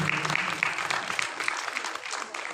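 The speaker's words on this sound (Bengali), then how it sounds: "জোরে হাততালি হোক" A crowd at a school annual function in a hall claps in lively applause, rapid overlapping hand claps that gradually thin toward the end, with faint voices underneath.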